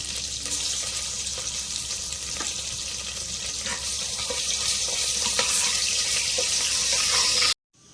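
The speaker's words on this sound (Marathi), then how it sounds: "आता तेल टाकले आपलं चांगलं. जिरं मोहरी टाकून घेऊ आपण. जिरं मोहरी तडतडल्यावरच" Cumin and mustard seeds crackle in hot oil while making dal khichda, a steady close sizzle dotted with small sharp pops, cutting off abruptly near the end.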